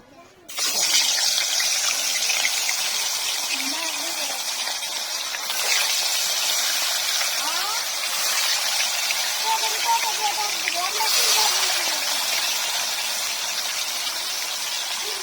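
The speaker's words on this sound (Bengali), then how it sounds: "মাছগুলো হলো সিলভার মাছ অল্প অল্প করে ভাজি" Silver fish frying a few pieces at a time in hot oil, giving a steady, dense sizzle close by that runs the whole time, with someone speaking now and then over it.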